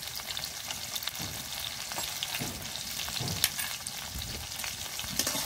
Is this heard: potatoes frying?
yes